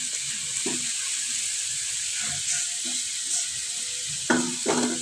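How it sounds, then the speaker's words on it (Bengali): Shrimp and potato pieces crackle in frying oil with a continuous close hiss, broken by a few soft scraping stirs and clinks near the end, with no voices. "এই যে এরকম ভাজা ভাজা হচ্ছে"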